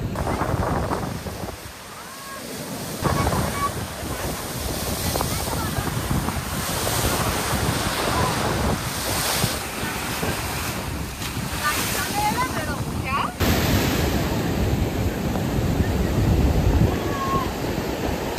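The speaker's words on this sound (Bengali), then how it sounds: "সমুদ্র পুরো উত্তাল" Rough, churning sea surf at Mandarmani beach as Cyclone Remal approaches: a continuous loud roar of crashing waves mixed with heavy wind buffeting the microphone throughout.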